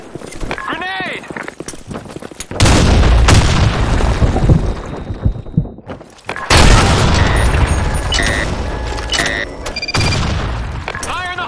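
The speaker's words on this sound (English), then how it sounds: "Grenade." Grenade blast in a chaotic first-person shooter match, a loud booming burst around midway followed by another heavy blast, amid gunfire, clatter and game effects, with a voice talking underneath.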